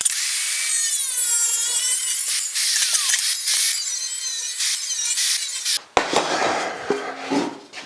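A custom grill part for a 1956 Chrysler 300 is trimmed, a high, wavering whine of cutting grinding on for several seconds, then it cuts out, leaving a few knocks and light handling noises.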